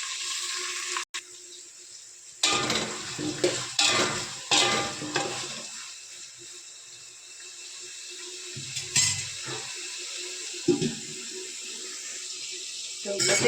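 Potatoes being sautéed in a pan give bursts of stirring scrapes and sizzle, then settle into a quieter frying hiss with occasional clinks, close and fairly loud.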